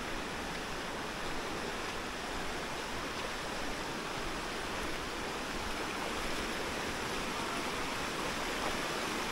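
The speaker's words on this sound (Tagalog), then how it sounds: "Ay, ang agos ng tubig, ang lakas oh." Strong water rushes at Aloha Falls in Carranglan, Nueva Ecija, a dense, unbroken roar of flowing current that stays loud and steady throughout with no voices over it.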